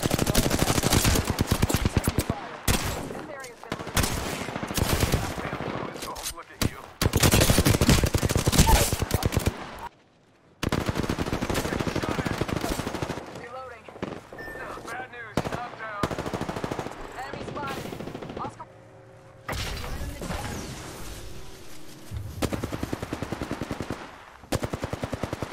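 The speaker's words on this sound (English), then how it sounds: "Shots fired, and they're hitting me." Gunfire in the Apex Legends video game: dense bursts of automatic fire and rapid shots in long stretches, broken by brief pauses and quieter moments, loud and close.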